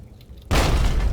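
A loud explosion in the Fallout video game bursts in suddenly after a quiet stretch and sustains a heavy, rumbling roar to the end.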